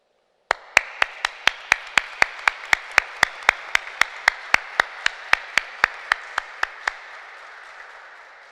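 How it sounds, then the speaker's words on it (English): Graduates at a 2021 graduation ceremony clap for their teachers in a steady, evenly spaced rhythm: about twenty crisp, sharp claps that stop abruptly, then quiet. "join me in giving all the teachers a round of applause"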